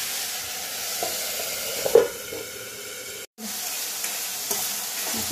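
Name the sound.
masala with tomato frying and being stirred in oil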